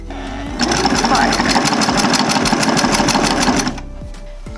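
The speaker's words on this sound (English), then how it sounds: "now we are going to start sewing from this point" A sewing machine runs in a steady, fast, loud stitching burst of about three seconds while sewing a thermal blackout window cover for a van, with faint talk around it.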